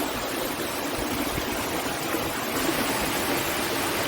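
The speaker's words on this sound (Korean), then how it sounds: "폭포가 연속으로 12번이 뚝뚝뚝 떨어진대" Steady rushing water fills the clip, a broad continuous roar of a twelve-tier waterfall and stream flowing nearby on Dutasan mountain, Korea, with no pauses.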